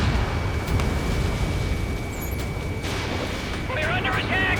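A missile launches and explodes in the Ace Combat 7 combat flight game, heard as a loud, sustained roaring rumble with a faint radio voice near the end.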